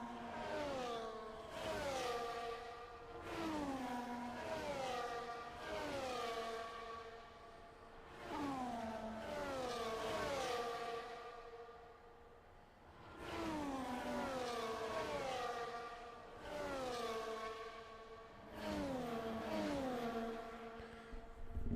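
Simulated Formula 1 car engine from the F1 24 game at Spa, a high-pitched engine note sweeping up through the gears in repeated shift cycles, steady and loud throughout with no talking.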